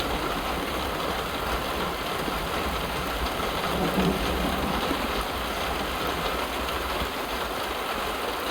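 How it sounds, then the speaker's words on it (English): Steady, heavy rain on an Australian smallholding, falling as a dense, continuous hiss with a low rumble beneath, close and loud for the whole stretch. "It's good rain actually."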